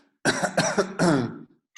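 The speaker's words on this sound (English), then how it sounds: "Should we cough?" Three quick coughs in a row, loud and close, harsh with a rough, voiced edge, followed by a brief pause and the start of another sound.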